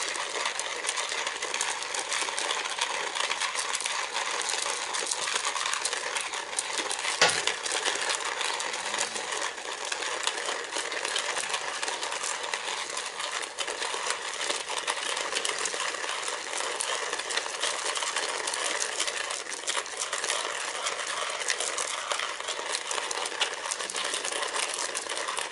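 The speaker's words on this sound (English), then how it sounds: "There you go, and then you just get grinding." Coffee beans are ground coarse in a GSI Java hand mill, a steady, close, gritty crunching and rasping that runs on evenly without a break.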